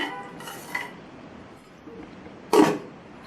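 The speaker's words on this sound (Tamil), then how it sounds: "நல்லா கலந்து விட்டுட்டு" Rice, lentils, fenugreek and water are stirred in a metal pressure cooker, giving two brief scraping clinks of a spoon against the pot, the second louder, with quiet between.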